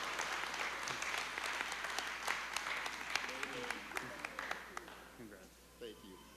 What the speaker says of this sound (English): if we could get a round of applause for Paul Steckline